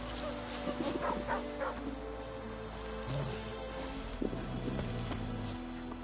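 Hussar, a dog in The Witcher 3: Wild Hunt, gives a few short yips and whines near the start amid game ambience with hoof clip-clops, fairly faint and close.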